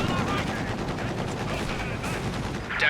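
A Sherman tank fires during a Company of Heroes 2 battle amid dense, continuous rattling gunfire and rapid shots, loud and steady throughout, with a commentator's voice faintly underneath.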